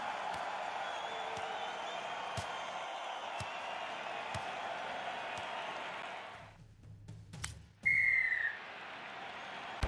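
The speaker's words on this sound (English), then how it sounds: "Blow of the whistle from the referee." A referee's whistle in the rugby game Rugby 18 sounds in short sharp repeated toots over a steady stadium crowd roar, followed by the crowd dipping and a single longer shrill blast.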